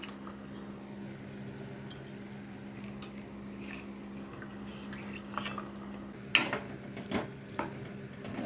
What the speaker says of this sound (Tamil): எல்லாம் சேர்த்து நல்லா கிண்டி விட்டுருங்க